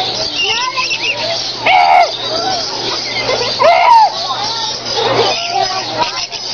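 Birds chirp and call at a Busch Gardens bird encounter where visitors try to get them to perch, with short bright tweets and coos repeating between people talking nearby.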